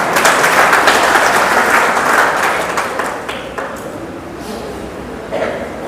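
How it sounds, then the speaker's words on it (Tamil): Loud, dense applause from an audience at a Tamil-language talk, sustained for several seconds before thinning out, with a fresh burst near the end. "நல்லா கைதட்டலாம்."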